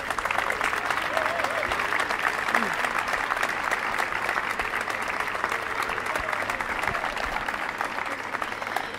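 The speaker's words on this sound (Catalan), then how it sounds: "Moltes gràcies i un aplaudiment per ells." Outdoor crowd applause at a protest rally in Reus against speculation on renewable energy, steady dense clapping held for about nine seconds, with faint voices and a low engine hum beneath.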